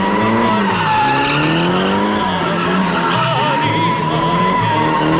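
A Skyline GTR 700 drag car spinning donuts, engine roaring loud and continuous under long wailing tyre squeals, close and sustained throughout.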